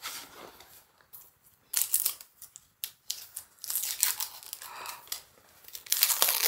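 Plastic film on a Dyson Airwrap box is ripped and crinkled open in several bursts of tearing and crackling, close and fairly loud, with short pauses between pulls.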